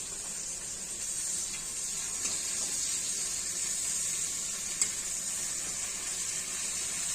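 Turmeric, salt and spices frying gently in a pan as a steady, soft sizzling hiss, with one brief clink midway and no talking.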